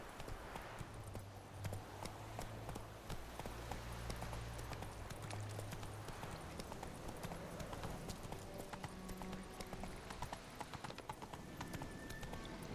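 Horse hooves clip-clop steadily through a Witcher 3 game scene, a continuous run of hoofbeats over a busy, layered background with occasional whinnies and music-like tones.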